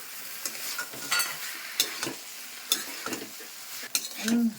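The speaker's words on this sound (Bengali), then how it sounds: "এখন ফুলকপি দিচ্ছি ফুলকপি দিয়ে নেড়ে দিচ্ছি" Cauliflower and potatoes are stirred in a frying pan for a vegetarian home-style dish, with repeated scraping strokes at an uneven rhythm over a soft, constant sizzle, heard up close with no talking.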